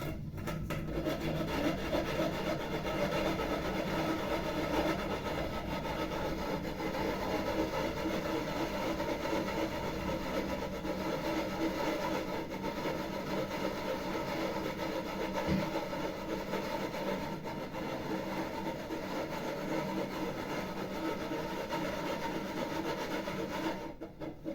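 Hard-as-rock Pecorino cheese is grated in a continuous, close, rasping scrape that carries on steadily with no talk over it.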